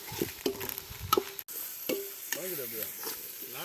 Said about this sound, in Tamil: இஞ்சி பூண்டு நல்லா போட்டு வதக்கணும்